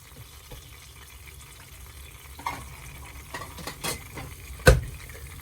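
Steaks cooking in a pan, a soft, steady sizzle close by with a few sharp clinks and scrapes of utensils against the pan.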